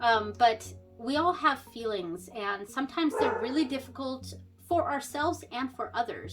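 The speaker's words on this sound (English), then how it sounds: "Oh, sorry about the dog." A dog barks in short, scattered yelps in the background, fairly faint, while someone talks steadily in the foreground indoors.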